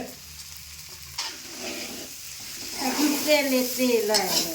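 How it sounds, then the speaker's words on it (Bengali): Vegetables, rice and roasted mung dal fry and sizzle in oil in a home kitchen pan for khichuri, with stirring scrapes and a crackling hiss that grows louder, under occasional quiet talk. "এবারে সবজি দিয়ে চাল দিয়ে ডাল দিয়ে সুন্দর করে ভাজা হচ্ছে"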